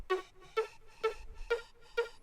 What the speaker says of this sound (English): the final layer here is this bleep sound effect